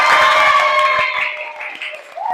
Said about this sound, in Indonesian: Kita beri aplaus yang meriah untuk kita semua.